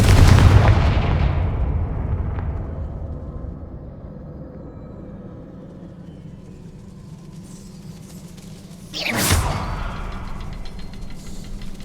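A Confringo fire spell explodes in the Hogwarts Legacy video game: a loud burst with a long decaying rumble, then a second sharp blast near the end, with no speech.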